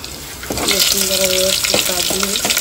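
Garlic dropped into hot oil in a wok sizzles and crackles loudly and close by, a steady frying hiss with brief stirring and clinking, while a voice talks in bursts over it.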